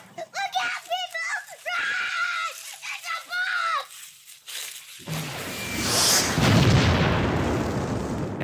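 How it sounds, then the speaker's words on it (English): A staged bomb explosion effect in a child's home movie lands suddenly after a stretch of excited shouting and screaming, leaving a loud, sustained rumbling roar of blast noise. "Run! It's a bomb!"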